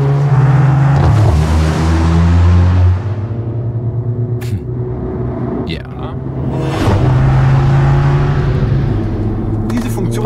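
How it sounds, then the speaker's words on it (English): Mercedes A 45 AMG with a 7-speed dual-clutch gearbox doing a race-start launch on the Imola track, a loud, close engine roar that surges, drops briefly at a shift and builds again, with someone speaking over it. "Pull both shift panels, left foot on the brake, race start active,"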